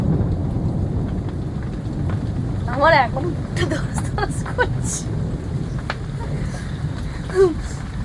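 Heavy rain pours steadily through a thunderstorm, with rumbles of thunder rolling in the background under a person talking briefly nearby.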